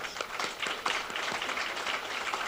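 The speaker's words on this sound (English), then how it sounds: "give each and every one of you yourselves a hand, a round of applause." A crowd applauding at an MLK Jr. breakfast, dense overlapping claps forming a steady wash of sound with no voices over it.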